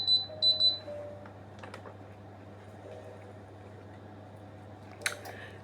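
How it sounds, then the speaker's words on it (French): A kitchen oven sounds three quick high-pitched beeps to signal that cooking is done, fairly close, followed by quiet room tone with a faint soft click near the end. "J'ai mon four qui vient de me dire que la cuisson est terminée, d'où le bip"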